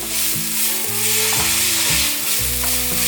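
Shredded cabbage sizzles loudly as it is stir-fried with pepper, black peppercorns and rose salt, a dense, even frying hiss with a low steady hum beneath and no voices.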